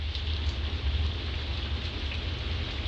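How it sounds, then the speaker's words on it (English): Heavy rain heard through open windows at night, a steady, dense hiss of downpour that holds at one even level throughout, with a low hum underneath and no voices. "That is the rain"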